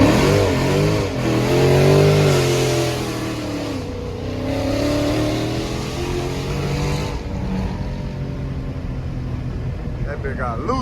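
A Dodge Charger Scat Pack accelerates hard at night with the windows down, its engine revving up through rising pitch sweeps that stay loud and close, while someone talks over it.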